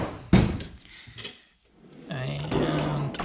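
A tool drawer in a workshop slides open with a thunk and rolls shut again, a sharp knock followed by a longer rolling slide, close by with brief speech alongside.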